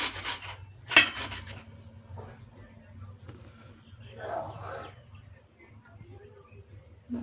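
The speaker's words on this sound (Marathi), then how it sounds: "अशी किसून ठेवून असं पहिले गाजर पूर्ण असं किसून घ्यायचं आहे" Carrots are grated by hand for carrot halwa in a home kitchen, soft rasping strokes in short irregular bursts, quiet and close, with someone speaking over them.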